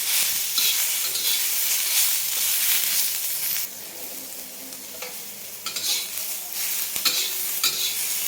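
Tomatoes dry roasting in a pan over a full gas flame with no oil, giving a loud, steady hiss and sizzle with scraping stirs and a few sharp pops.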